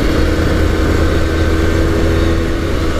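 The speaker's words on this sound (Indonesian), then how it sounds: "Kelebihannya adalah motornya kencang, motornya bertenaga, suaranya asik" An Aprilia RS250 250cc two-stroke motorcycle engine drones loudly and steadily at close range for the whole brief stretch, with no talking.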